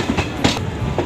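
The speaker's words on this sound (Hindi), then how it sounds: "दोस्तों ट्रेन अपनी पहुंच चुकी है बेतिया रेलवे स्टेशन।" Garib Rath Express train pulling into Bettiah railway station in West Champaran, Bihar, with a steady close rumble of rolling wagons and faint clacking of wheels on rail, no voices.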